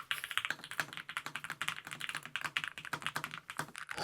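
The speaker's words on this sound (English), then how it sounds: "this is a good sounding feeling keyboard" Rapid, crisp clacking of keys on a Lofree Flow Lite mechanical keyboard, typed in quick uneven bursts, close and clear with no voices.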